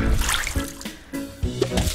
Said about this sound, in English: choose our watering can and water it